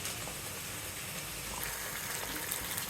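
Mango pieces tipped into hot, well-cooked spice mix for a sweet, sour and spicy mango pickle give a steady, dense sizzle and crackle like boiling liquid, filling the whole stretch close up with no talking.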